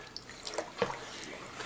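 Heavy cream poured slowly into a pot of pumpkin soup gives a soft, close liquid trickle with a few faint splashy bursts. It is quiet and steady, with no voices.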